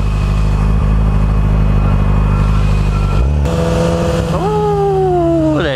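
A loud Nissan GT-R engine rumbles close by, then revs with rising pitch sweeps like shifting through gears, with dense low rumble throughout.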